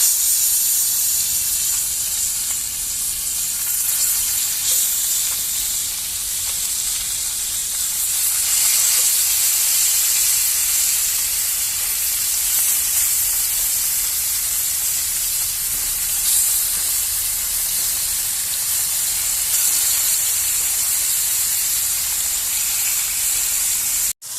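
Fish sizzles in hot oil, a steady, loud frying hiss that runs without a break and with no one talking.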